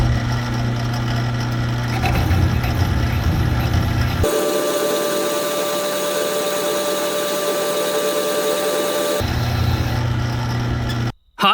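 A 2-horsepower milling machine cuts a reverse counterbore with a 1/2-inch pilot in a bronze bushing, a steady loud whirring machining drone with a tonal hum that shifts midway, then cuts off abruptly near the end.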